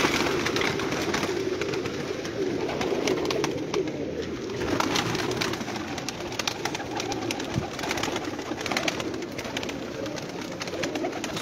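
A large loft of some two thousand pigeons, old-breed show birds, coos steadily. The soft murmuring layers on top of itself without a break against a constant background hum.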